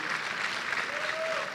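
Steady applause from a church audience fills the whole stretch, dense and even, with a faint voice briefly audible under it.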